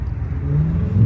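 Burble-tuned Dodge Charger engine revving up close, a loud, deep, rising engine drone that climbs steadily in pitch over about a second, heard alone without voices.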